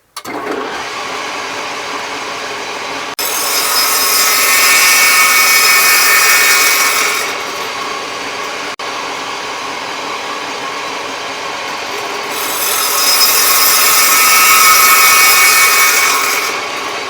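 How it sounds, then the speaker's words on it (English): A power saw cuts a cove into the side of thick 2x4 scrap stock in two loud, sustained passes, each a rising whir that drops back to the saw idling between cuts. "The next thing I do is put a cove cut in the side of the thicker pieces of the"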